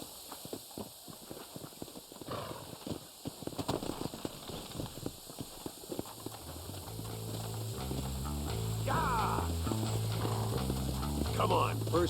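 Horses clip-clop at a walk in the video game Red Dead Redemption, their hooves striking in a close, regular rhythm, while a low tonal music bed swells in under the later part.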